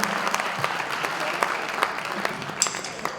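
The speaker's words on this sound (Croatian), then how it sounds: "Ajde, još jednom aplauz za mog brata, molim vas." Audience applause at a live concert in Stara Pazova, a steady wash of clapping with occasional sharper claps standing out, a voice briefly heard over it.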